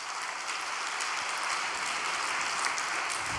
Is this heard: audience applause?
yes